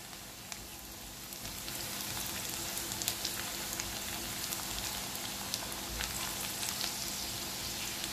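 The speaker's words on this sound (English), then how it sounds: "the rawness of the garlic goes away. So I'm just going to saute it till then. Let the flame be on high." Garlic sautés in a pan over a high flame, a fairly quiet steady sizzle with scattered small pops and crackles that swells slightly after the first second.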